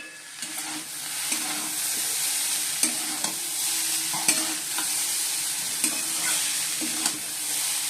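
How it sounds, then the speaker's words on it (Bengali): Maggi chowmein noodles stir-fried in a pan with ground black pepper and Maggi masala, giving a steady soft sizzle with repeated scraping clicks as the spatula stirs, close up and fairly quiet, with no talking. "দিয়ে এবার চাউমিন ম্যাগিগুলো দিয়ে দিলাম"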